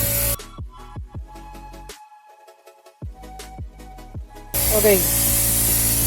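A big air compressor blows loud, steady hissing bursts while a car's clutch is bled after a stage 2 clutch install on a Veloster N, with a strong continuous blast at the end and brief talk.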